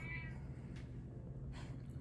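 A house cat meows a couple of times, soft and fairly near, over a low steady background hum.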